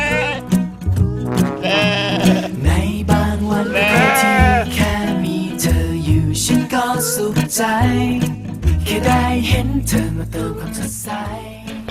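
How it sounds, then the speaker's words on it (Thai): Dozens of sheep bleating loudly and almost continuously at a farm in Suan Phueng, with overlapping calls from several animals close by and a steady low background hum. "ภายในฟาร์มสีฟ้าสดใสเขามีแกะอยู่หลายสิบตัวให้เราได้ชม"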